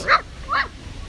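A Boston Terrier on a soccer field gives two sharp barks about half a second apart, close and fairly loud, with quiet outdoor background between them.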